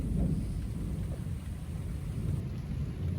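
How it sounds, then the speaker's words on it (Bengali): Thunder rumbles low and continuous through steady village rain on a morning with lightning, a dense roar that fills the whole stretch with no voices. "বৃষ্টির সাথে আকাশে মেঘ ডাকতেছে এবং বিদ্যুৎ চমকাচ্ছে"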